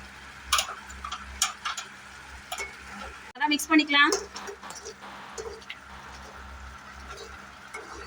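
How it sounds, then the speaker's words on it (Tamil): Salt and chicken masala being stirred into a tomato thokku: faint, scattered taps and scrapes of a spoon against the pan over a low sizzle, with a voice talking briefly partway through. "இப்போ இதை நல்லா மிக்ஸ் பண்ணிக்கலாம்"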